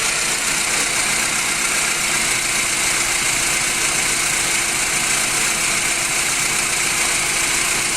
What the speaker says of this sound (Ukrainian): бачите, включився вентилятор вже